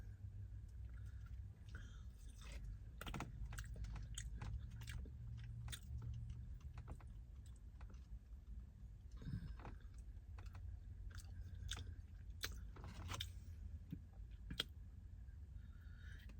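A fry topped with spicy taco sauce being eaten: soft, close bites and chewing in irregular bursts, quiet against a low background hum.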